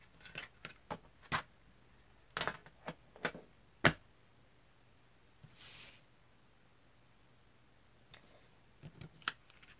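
Scissors snip through paper in a quiet room, with a scattered series of sharp clicks and short cuts, some close together, one louder cut midway.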